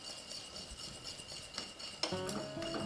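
A spoon stirs ginger and cardamom fudge mixture in a pot, making soft scraping and light clinks. Brighter tonal kitchen sounds come in near the end.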